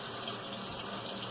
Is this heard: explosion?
no